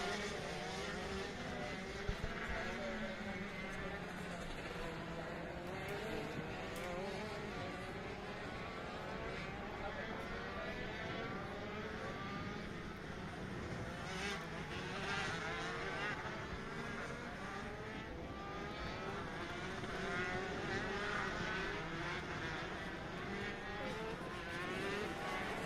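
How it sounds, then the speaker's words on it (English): Shifter racing karts circle the Sonoma Raceway kart track as a continuous drone of several small engines, their pitch wavering as they pass, heard from a distance and steady throughout. "So Ryan Martin is bringing the karts around the track."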